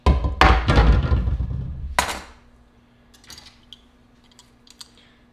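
A heavy tool drops onto a carbon bike frame in two loud, solid strikes close by, followed by fainter light clicks and rattles.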